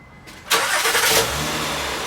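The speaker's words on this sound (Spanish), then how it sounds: "Vamos a prender el carro." A Honda car engine starting up during an oil change: a brief starter crank, then the engine catches with a loud burst and settles into a steady idle, heard up close with no talking.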